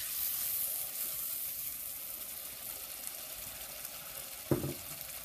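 Duck curry masala sautéing in a pan, a soft continuous sizzle with faint stirring and a single sharp clink near the end.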